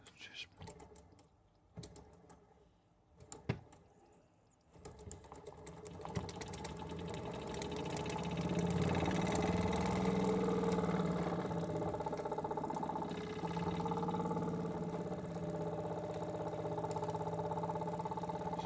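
A small Jensen Model 70 oscillating steam engine chuffs and clatters steadily in a fast mechanical rhythm. It starts after a few seconds of quieter knocking and stays fairly loud and close.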